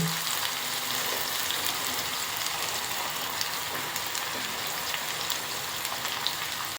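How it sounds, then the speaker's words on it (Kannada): Masala mandakki, puffed rice with spices, cooking in a pan on a low flame, giving a steady soft sizzle and crackle that runs evenly throughout with no talking. "ಈಗ ಲೋ ಫ್ಲೇಮಲ್ಲಿ ಇಡೋಣ ಸ್ವಲ್ಪ ಹಂಗೆ ಬೇಯಲಿ"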